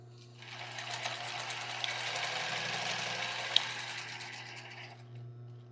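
A zigzag sewing machine stitches tulle and lace for a bra, running in one steady continuous burst at close range with a fast, even needle rhythm throughout.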